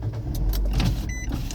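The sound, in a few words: car being moved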